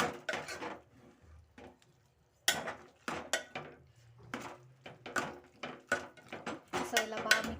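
A spoon scrapes and clatters against a pan while masala powder is mixed into a cauliflower curry, giving irregular metallic knocks and scraping strokes, close and moderately loud.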